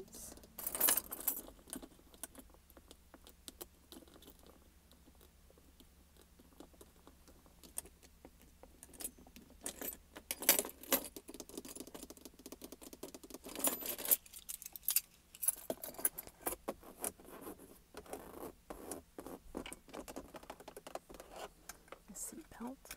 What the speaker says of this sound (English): And the keys.